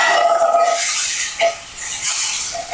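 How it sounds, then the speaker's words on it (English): A utensil scraping the bottom of a skillet while cooking bacon and crispy potatoes, close and fairly loud, with a few short scrapes over a background sizzle. "scrape the bottom of this pan"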